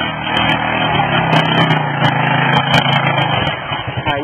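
A powerful off-road vehicle engine revs hard while pushing through thick mud, a loud, close, steady growl with slight surges in pitch over several seconds.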